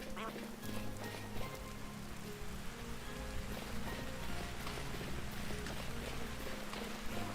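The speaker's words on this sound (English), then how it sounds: "Being a nice desert rain, it's June, so summer" Steady rain falls across a desert landscape in the video game Vintage Story on a summer day, a dense continuous patter with low tonal background ambience running throughout, no speech.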